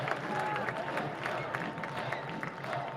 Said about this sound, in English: this has really gotten the crowd going again here at Canal Park